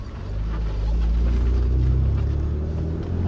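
A Mitsubishi 3000GT VR4 engine idles steadily on all six cylinders after repair, a loud, continuous low rumble heard close from inside the car with no talking.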